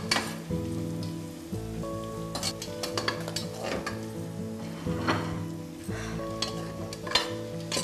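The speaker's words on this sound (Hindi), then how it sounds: "ये जो प्याज मैं ब्राउन करके इसमें निकालूंगा" Onions sizzle and brown in a hot pan, a steady crackling fry broken up by the scrape and clatter of a spoon stirring through them.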